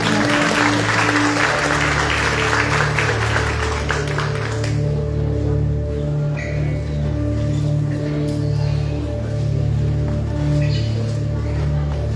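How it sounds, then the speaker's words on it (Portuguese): Loud applause from a church congregation during a morning service fills the first few seconds, then fades under sustained organ-like music tones that continue to the end. "Uma salva de palmas."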